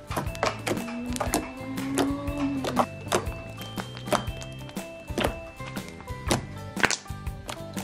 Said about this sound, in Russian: Послушаем, как он кликает.